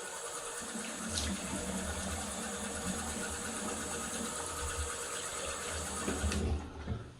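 Water runs steadily from a tap to rinse a shaving brush and razor after lathering for a shave, a continuous close splashing rush with no talk.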